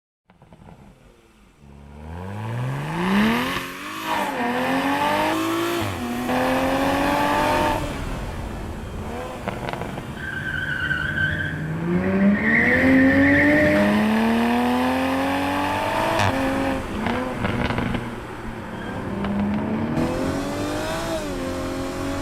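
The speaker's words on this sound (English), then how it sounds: "Let me show you what is the actual sound of the legend Supra." A Toyota Supra sports car accelerates while driving, its engine rising in repeated revving sweeps through the gears with shifts between pulls, loud and close, alone without talk.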